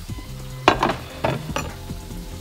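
Chicken breasts sizzle in a hot pan, with a few louder bursts of hissing as pieces are laid in or moved, over a steady low frying hiss.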